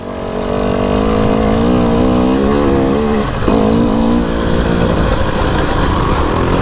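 A Husqvarna TE300i dirt bike on a trail ride sounds close and loud, its engine holding a steady buzzing tone, then dipping and revving back up midway before continuing strongly.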